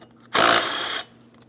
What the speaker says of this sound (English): We can remove that mounting bolt.